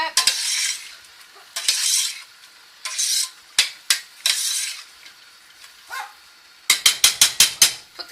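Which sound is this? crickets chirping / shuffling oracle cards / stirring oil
stirring oil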